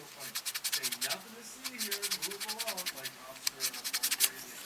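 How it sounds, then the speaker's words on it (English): Sandpaper rubs back and forth over the plastic tires of a 1:24 Aoshima DeLorean model kit, making close, dry scratchy strokes in short repeated bursts. "I'm going to go over the tires with sandpaper here"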